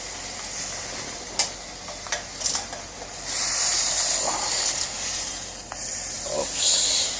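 Litson kawali pork sizzles in a Saladmaster pan cooked without oil, a loud, close hiss that swells and fades, broken by sharp clicks and scrapes of stirring.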